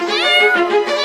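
A cartoon cat meows in a steady, loud string of drawn-out calls with no gaps, sounding close and filling the whole moment on its own.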